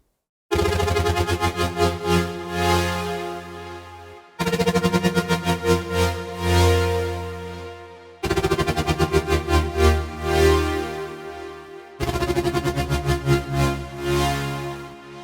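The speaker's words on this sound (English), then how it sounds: "This one is called Ascent, and it has this really nice LFO modulation going on." The Ascent melodic techno synth plays four sustained chords of about four seconds each, with LFO modulation making each chord pulse rhythmically and swell, loud and alone.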